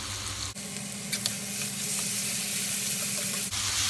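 Spice paste sizzling and frying steadily in a pan with crushed lemongrass, bay leaves and lime leaves, a dense continuous crackle with occasional stirring scrapes, close and constant throughout.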